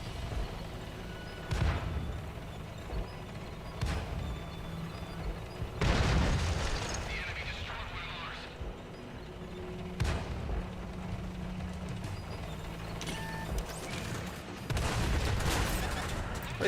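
Tank cannon shots and explosions in the video game World of Tanks, with a T110E5 in the fight, come as a series of heavy booms spaced a few seconds apart over a low engine rumble.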